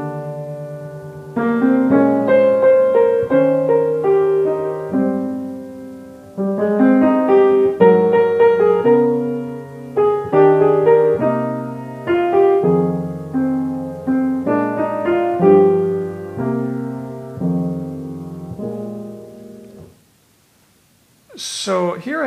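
A piano plays a slow jazz melody over sustained left-hand seventh-interval chords in phrases, close and clear, ending with a brief pause and a short breath-like sound.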